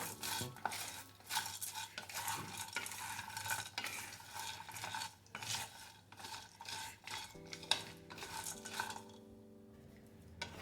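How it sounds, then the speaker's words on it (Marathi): Pumpkin and watermelon seeds are dry-roasted and stirred in a pan, with continuous rattling, scraping and clattering against the metal, fairly close, with a low hum under it and no speech. "ह्यामध्येच भोपळ्याचं बी घालते, थोडं टरबूज बी, पूर्ण चांगलं भाजून घेते।"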